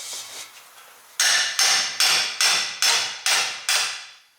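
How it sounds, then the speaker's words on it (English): Seven sharp, loud metallic strikes ring out at a steady rhythm as a three-pound mallet pounds on the rear drive shaft bolts of a 1996 Nissan 240SX S14, each blow decaying with a ringing tail. "use your handy dandy mallet. 3-pounder."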